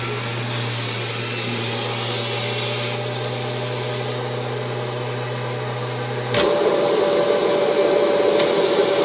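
A Kirby G4 80th Anniversary Edition vacuum cleaner with a power nozzle runs with a steady motor drone and a low hum, then shifts abruptly to a louder, brighter roar partway through, continuing loud and close.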